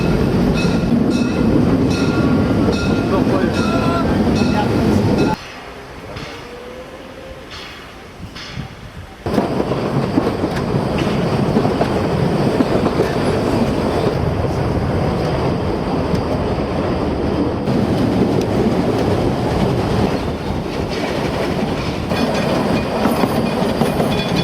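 Steam train running through an urban area in Saxony near Radebourg, a loud close rumble with rhythmic clickety-clack of wagons, briefly quieter midway before the roar returns.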